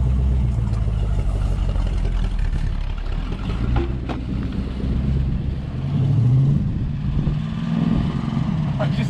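A 1973 Chevy Chevelle SS 454 barn find with a Muncie 4-speed, running on old bad gas, idles with a steady low engine rumble throughout, with voices talking over it.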